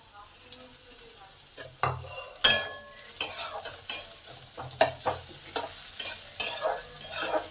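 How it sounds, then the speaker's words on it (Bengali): Chopped onion dropped into a pan of garlic fried red in oil, with sharp spatula scrapes and clinks against the pan over a soft, steady sizzle, close and irregular. "এই সময় একটা পেঁয়াজ কুচানো আছে সেটা দিয়ে দিলাম"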